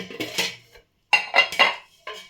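Metal appam pan lifted out and set down in a home kitchen, giving a few bright clanks and rattles in separate bursts with short quiet gaps between them.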